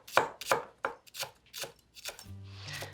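Knife chopping through scallions on a cutting board, a series of crisp, irregular chops close by, followed by a brief low hum near the end.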